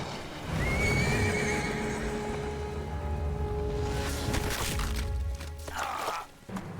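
A horse in the video game Metal Gear Solid Delta lets out a clear, drawn-out neigh, followed by hoof clops and splashing, rustling game sounds.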